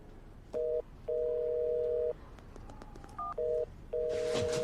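A telephone call is dialed: a series of short and longer electronic tones in an uneven sequence, fairly close and clean, ending with a burst of noise.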